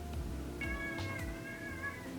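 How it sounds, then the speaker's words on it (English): A vocal tuxedo cat gives a single drawn-out meow, fairly close, over steady low room noise, with no talking. "You're probably gonna hear a random meow every now and again because she is a vocal tuxedo kitty"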